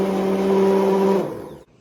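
A blender runs steadily, whirring through a garden-fresh pasta sauce with onions for about a second and a quarter, then spins down and cuts off, leaving near silence.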